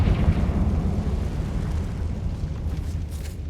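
A Confringo fire spell explodes in the Hogwarts Legacy video game, a deep, loud booming rumble that hangs on for several seconds with no voices.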